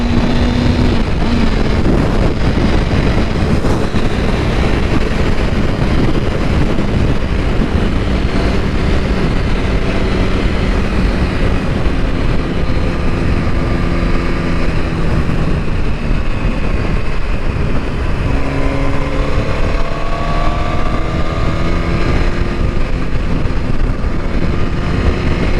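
A Suzuki GSXR 1000 motorcycle on a ride, engine droning loud and steady with wind rush, rising and falling in pitch as it shifts through gears, no talking.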